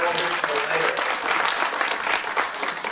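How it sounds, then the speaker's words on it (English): An audience claps for a former poet laureate at a city poetry event, a steady dense wash of applause throughout, with a voice briefly audible early on. "So, round of applause."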